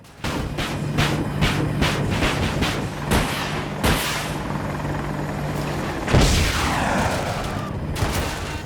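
Several heavy video game cannon booms go off one at a time over a constant whirring rotor drone, with the loudest blast near the end.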